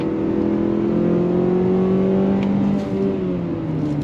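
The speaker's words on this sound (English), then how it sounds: "pulling away from this light. Oh, throttle, here we go. 6-speed drops down and we are off and running." A 2023 Mazda CX-50 2.5 S with a six-speed automatic pulls away from a light under throttle, its engine droning loudly and steadily from inside the cabin as the pitch climbs slowly, with no talking.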